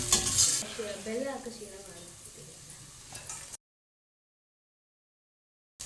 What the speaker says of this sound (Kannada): ಸ್ವಲ್ಪ ನಿಧಾನಕ್ಕೆ ಈರುಳ್ಳಿ ಫ್ರೈ ಮಾಡ್ಕೊಳ್ಬೇಕು